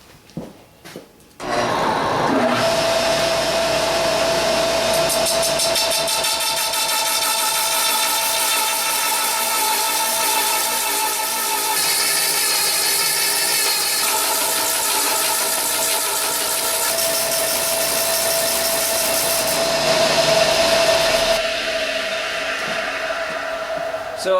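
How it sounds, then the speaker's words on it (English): A log tenon-cutting machine with a cutting blade and a back-and-forth carriage runs loud and steady with a constant engine-like drone and high whine for about twenty seconds, starting and ending abruptly. "my machine turns out a nice tenon"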